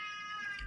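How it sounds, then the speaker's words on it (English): A cat named Chevy gives a single short meow, thin and fairly clear with no talk over it. "Chevy, one of my cats."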